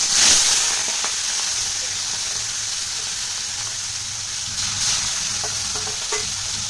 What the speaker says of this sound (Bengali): তেলটা গরম হয়ে গেছে, মাছটা ভেজে নেব।